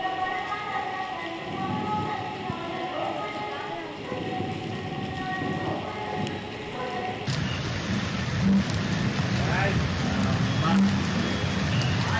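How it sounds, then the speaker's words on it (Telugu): Steady, dense rain pours down continuously in Hyderabad, a broad hiss that grows brighter and heavier partway through, with low rumbling underneath. "మాదాపూర్లో వర్షం పడింది"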